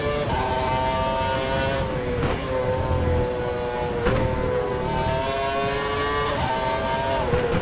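A Formula 1 car engine in the racing game F1 2012 drones steadily at high revs, its pitch sweeping and shifting through gear changes, loud and continuous.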